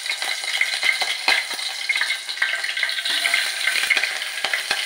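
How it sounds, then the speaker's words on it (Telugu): Ginger pieces and whole spices are tempered in hot oil in a pot on the stove, crackling and sizzling loudly and close. Sharp pops break up the dense fizz, and no one speaks. "ఇలాగా పోపు అనేది వేగాలన్నమాట. వేగితే ఈ బాగుంటుంది"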